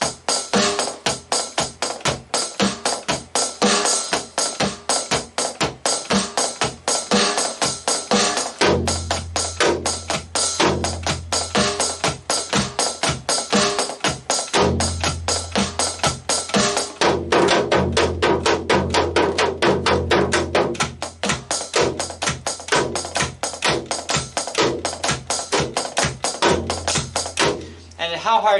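A homemade electronic drum pad is struck over and over in fast, sharp taps, with a deeper synthesized drum tone joining partway through as the hits continue in dense rhythmic runs, close and loud.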